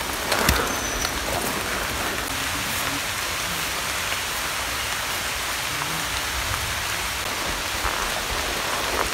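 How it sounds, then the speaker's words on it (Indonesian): Heavy rain pours down steadily in a mountain forest under large trees on Mount Ungaran, a dense and even hiss with scattered drops. It is close, continuous and without speech. "hujan masih turun lumayan deras"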